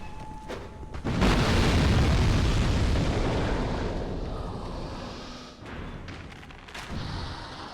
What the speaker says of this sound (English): there are explosive barrels here that can make it easier to deal with this group of enemies